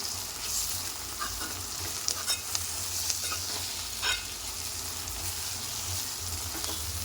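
Ginger-garlic paste frying in a pan for a cabbage curry, giving a steady, close sizzle with occasional stirring scrapes and clicks throughout, with no speech over it.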